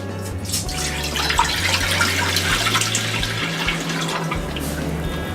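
Five cups of water stream from a container into a cooking pot while seafood paella is being made, a steady splashing pour with faint trickles, moderately quiet and without speech.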